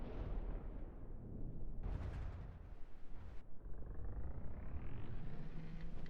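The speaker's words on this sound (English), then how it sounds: "First barrage almost kills the AI." Heavy battleship guns fire a barrage in the naval combat game From the Depths, loud rolling booms and blasts layered densely over one another throughout, with a sharp burst near the two-second mark.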